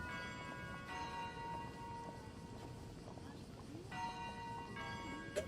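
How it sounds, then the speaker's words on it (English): A school bell rings for class at the school gate, heard as two brief, fairly faint bursts of bright clanging over a dull background, with talking in the scene. "The bell for class reached me at the school gate."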